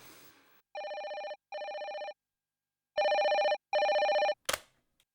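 A telephone rings in four electronic bursts, two short and two longer, against a quiet indoor room, followed by a brief clatter as it is picked up.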